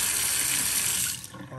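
Water rushes steadily from a newly installed pull-down kitchen faucet into the sink, a loud close hiss that fades slightly near the end; no talking.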